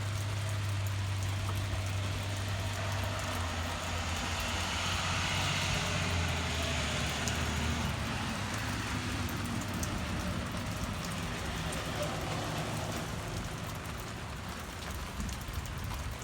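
Steady, dense rainfall hisses continuously on surfaces outside a house, with a low rumble from road work machinery in the background for the first half.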